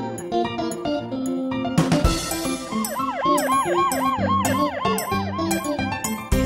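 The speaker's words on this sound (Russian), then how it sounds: "Здесь скорая помощь, по имени Донна." A cartoon ambulance siren wails in a rising and falling pattern, repeating several times over the music of a children's nursery song.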